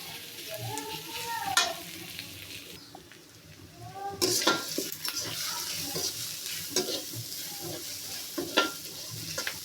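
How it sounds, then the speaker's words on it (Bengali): Onions frying in oil for a pigeon curry sizzle steadily while a spoon stirs and scrapes the pan in uneven bursts, close and moderately loud with no talk. "তো ভালো ভালো করে ভাজা ভাজা করবো লাল লাল করে"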